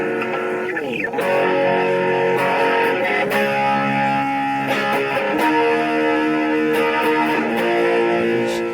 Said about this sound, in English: You can hear how it adds bite, tightens the mids, and gives you that aggressive crunch.